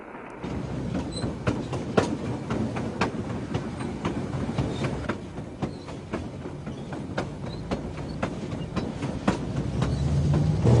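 A train rumbles steadily along the rails, wheels clicking in a regular rhythm, loud and continuous with no talking.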